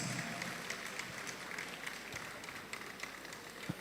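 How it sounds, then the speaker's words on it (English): Applause from an audience at a birthday colloquium in Abuja, welcoming a senator: a steady, moderately distant wash of many hands clapping, fairly soft, with a few sharper claps standing out near the end. "Can we please welcome her with a resounding applause?"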